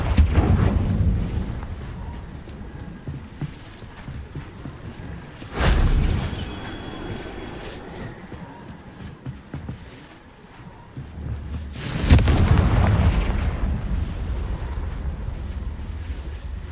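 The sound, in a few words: Confringo fire blast spell explosions in Hogwarts Legacy video game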